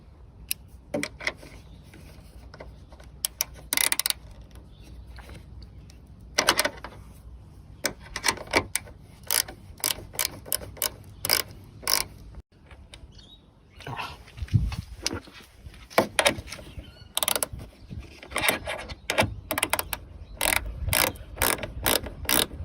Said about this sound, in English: You've got two 10mm bolts. You need to get rid of them. Take them open. It's a size 10.